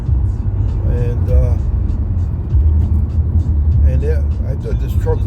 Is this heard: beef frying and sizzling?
no